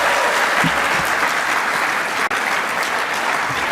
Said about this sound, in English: So give a quick round of applause for them.